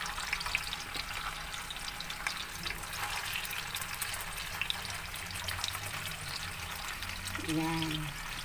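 Dalagang Bukid fish fries in hot cooking oil, a steady close sizzle and crackle with faint splashing, while a voice speaks briefly near the end.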